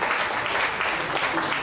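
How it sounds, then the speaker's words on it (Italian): Audience at an Italian talk event applauding, dense sustained clapping filling the room at a steady level throughout. "guardate che applauso"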